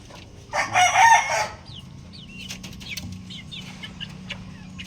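A rooster crows once, loud and close, followed by soft clucks and scattered bird chirps over quiet background noise.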